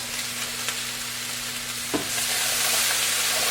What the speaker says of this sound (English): I hear them sizzling now, so we're getting hot.